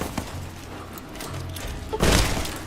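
A grenade blast in Fallout New Vegas lands as one loud, sudden thud-burst near the end, following a stretch of low rumbling game noise.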